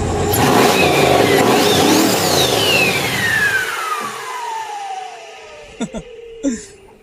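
A ProMod race car's turbocharged engine revs loud and close, rising to a high whine that sweeps into a long falling turbo whistle as it spools down, followed by a couple of short sharp bursts.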